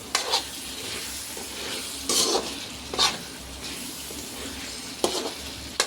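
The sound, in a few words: stirring beans into frying masala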